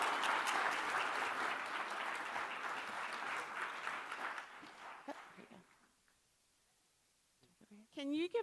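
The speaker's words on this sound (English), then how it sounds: "Can you give them all another round of applause, please?" Audience applause at the Interledger Summit 2023 conference, a full room clapping steadily for about five seconds before tapering off into quiet, followed by a short burst of nearby voices.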